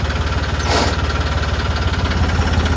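Steady mid-pitched motor of a farm irrigation water pump drones continuously with a fine knocking throb, close and loud, with a brief hiss of rushing water partway through; no talking.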